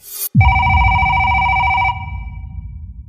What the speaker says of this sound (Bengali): ওপাশে রিং হতে থাকে, একবার, দুবার, তিনবার